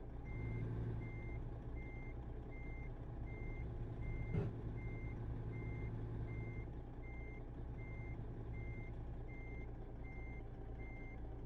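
Reversing alarm on a truck in American Truck Simulator, a steady evenly spaced beep repeating throughout over a constant low engine rumble, with one brief thump partway through.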